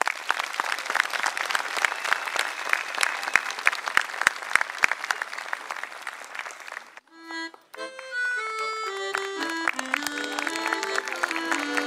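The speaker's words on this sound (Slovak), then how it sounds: "jeden veľký potlesk pre našich spevákov" A live audience applauds folk singers at a cultural evening in Kovačica-Padina, the dense clapping lasting about seven seconds before giving way to a melodic passage.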